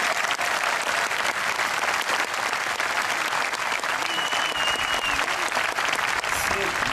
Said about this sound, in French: J'aimerais que nous applaudissions tous ces tambourinaires qui viennent avec nous.